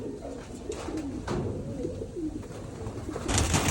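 Racing pigeons in a breeding area coo repeatedly nearby, soft rolling calls over a background hum, with a brief louder rustle near the end.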